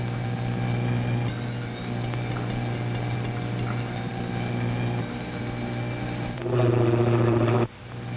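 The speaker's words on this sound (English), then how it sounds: "The plane should be practically overhead." Airplane motors droning overhead in a 1939 film, a steady loud engine hum that swells near the end and then cuts off sharply.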